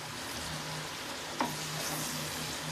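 Pumpkin and red amaranth stems stirred in a pan, with a soft steady sizzle of frying and a brief scrape of the spoon partway through, fairly quiet and with no talking.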